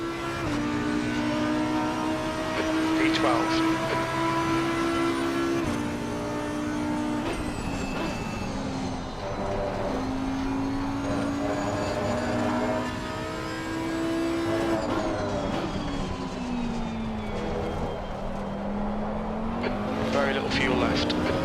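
V12 race car engine in Assetto Corsa Competizione at Valencia, droning steadily at high revs through a lap, pitch rising and dipping with gear changes and throttle, loud and continuous with occasional voice over it.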